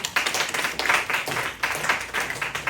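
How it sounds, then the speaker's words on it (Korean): A church congregation at a Sunday service claps in a loose, rhythmic pulse. The sound is moderately close and continues throughout without talk. "나오시오. 박수."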